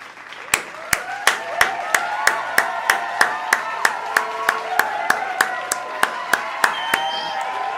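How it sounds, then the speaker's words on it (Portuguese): Slow, evenly spaced single claps ring out one after another at a book launch event, with people talking underneath throughout. The claps sound close and isolated rather than a full crowd. "Eu sei que as pessoas que estão no chat vão se juntar a mim nessa salva de palmas"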